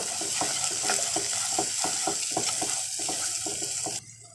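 Masala with chili powder, turmeric and salt sautés in a pan, close sizzling with rhythmic spatula scrapes and stirring taps throughout, cutting off abruptly near the end.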